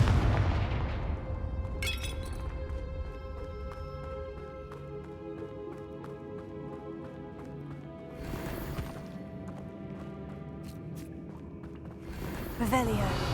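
Confringo blasting spell explosion in Hogwarts Legacy, a loud burst at the start followed by two more blasts, amid game music and talking.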